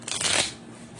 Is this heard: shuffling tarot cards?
yes